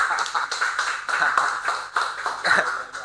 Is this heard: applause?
yes